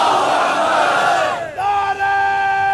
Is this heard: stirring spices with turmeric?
no